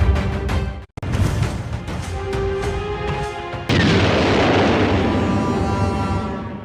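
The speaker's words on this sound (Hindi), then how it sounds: "धुआं सा उठता है और धमाके की तेज आवाज आती है।" Missile strike on a government office building in Mykolaiv, Ukraine: a loud, sharp blast hits suddenly, followed by a sustained roaring rumble of debris and echo; a brief dropout precedes it amid earlier layered rumbling.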